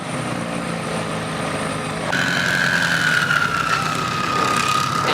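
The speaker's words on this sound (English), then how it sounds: "with this all-new C8 Z06, it's just mind-blowing on how good it sounds" A Chevrolet Corvette C8 Z06 at a car meet gives off a steady, fairly loud engine drone, with a rising then gently falling tonal whine over the second half.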